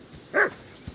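A dog barks once in Kingdom Come: Deliverance II, a single short, mid-distance bark over a quiet background, with no one talking.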